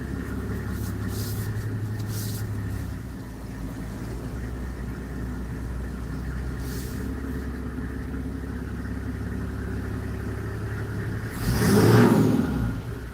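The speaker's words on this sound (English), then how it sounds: "Ah, sound of that engine." A car engine idles steadily up close for several seconds, then revs up briefly near the end before settling back, with no voices.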